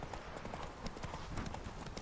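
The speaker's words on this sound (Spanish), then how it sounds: "será un largo camino a caballo" Horse hooves clip-clop steadily at a riding pace in The Witcher 3 video game, with quick rhythmic hoofbeats and faint game ambience behind them.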